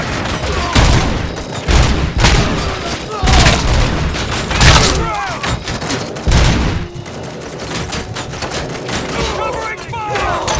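Heavy gunfire rattles in Robocop: Rogue City, loud repeated bursts and booming shots in rapid clusters, with voices shouting over the shooting.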